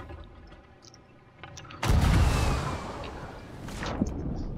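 A ship's cannon in Sea of Thieves fires a player across the water, a sudden deep boom followed by a long rushing whoosh that fades, then a second softer surge of noise, loud and close without talk.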